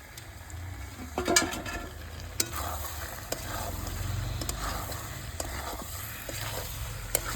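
Boiled and fried new potatoes sauté in oily spice paste for niramish aloor dum with a continuous sizzle. Spatula scrapes and clinks break in repeatedly over the frying, and no talk is heard.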